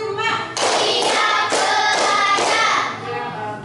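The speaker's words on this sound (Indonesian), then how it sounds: "lakukan tepuk 1 sampai 5" Schoolchildren clap in unison in a classroom counting game, three or four loud, evenly spaced bursts of group clapping close by, with voices heard at the start and end.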